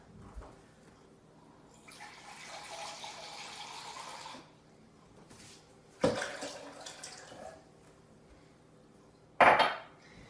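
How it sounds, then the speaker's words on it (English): Water poured into a blender jar while making almond nog, a broad splashing pour in the middle, followed by sharp clinks of a container or utensil against the jar, close and fairly quiet. "add just a little bit more water."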